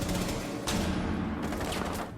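Gunfire from the video game Rainbow Six Siege plays as a dense, continuous rattle of overlapping shots under background game noise, moderately loud with no clear speech.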